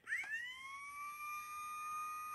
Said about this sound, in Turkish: Düğmesine bastığımızda siren sesleri çıkıyor.